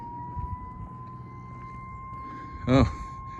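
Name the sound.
dam water release alarm siren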